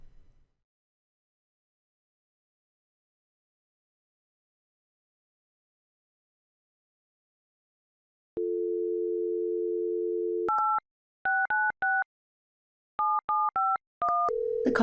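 On an office business phone system, a steady dial tone plays for about two seconds after silence, then a series of short touch-tone beeps dials extension 7751 in quick clusters, clean and close.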